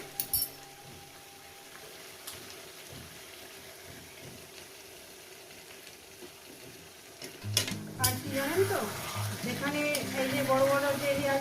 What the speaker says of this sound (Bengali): এই কষানোর মধ্যে দিয়ে দেবো একটু জল সামান্য পরিমাণে